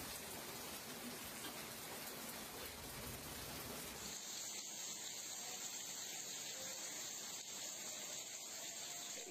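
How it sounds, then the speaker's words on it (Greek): A dense, steady hiss of heavy rainfall with hail, louder and fuller at first, then thinning to a constant bright wash of falling water. "χαλάζι και καταρακτώδεις βροχές έπληξαν για ακόμη μια μέρα ολόκληρο το νησί"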